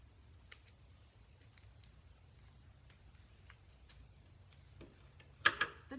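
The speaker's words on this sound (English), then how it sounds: "If you don't, you can just use your scissors" Scissors cutting folded paper along an outline for a Celtic heart knot craft: faint, close snips and small clicks at irregular intervals over a quiet background, ending in a slightly louder cluster of paper rustle.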